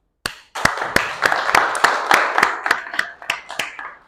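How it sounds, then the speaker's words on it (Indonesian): A class in a Quran and Hadith lesson claps in unison after a group presentation: about a dozen sharp, evenly paced claps, close and clear, with no voices over them. "Mari bersama-sama kita beri aplaus"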